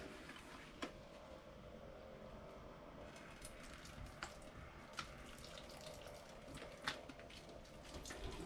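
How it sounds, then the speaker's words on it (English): Dishes are washed with salt water at a sink aboard a sailboat: water runs steadily while scattered clinks and splashes break through, with no voices. "Doing the dishes with salt water to get the worst of the stuff off"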